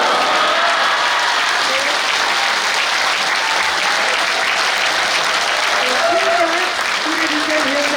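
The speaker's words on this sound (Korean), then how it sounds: "큰 박수 부탁드립니다" A crowd applauds steadily at a political party founding ceremony, sustained loud clapping for the whole stretch with some faint voices mixed in.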